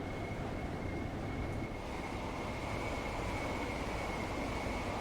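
A passing train in the London commuter rush-hour route of Train Sim World 2, heard as a steady, broad rumble with a faint high whine, holding at an even moderate level throughout without any voices.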